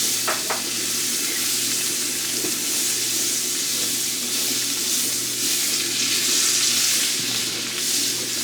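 Garlic herb butter melting and sizzling in a hot cast iron skillet, a steady close frying hiss running throughout with a few soft clinks near the start.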